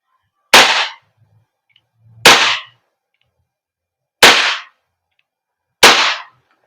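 A WE Glock 34 airsoft gas blowback pistol fires four sharp, loud single shots, spaced roughly two seconds apart, each ending in a short decaying snap with silence between them.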